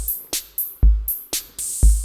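A live-coded electronic drum pattern made with the Gibber JavaScript library, with punchy kicks and bright hi-hat and snare hits looping in a steady groove, loud and without voices.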